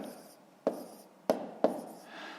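Pen writing numbers on paper during a fifth-grade maths exercise: three short, close scratchy strokes with gaps between them, quiet, and no talking over them.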